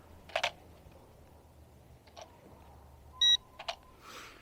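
A Ruko U11 drone emits a single short electronic beep during compass calibration, close and fairly loud, set among a few soft clicks and handling taps against a quiet room.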